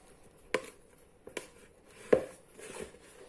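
A spoon presses and folds bread dough in a bowl in a few spaced, soft knocks and scrapes: four separate thuds, close up and fairly quiet, with no talking.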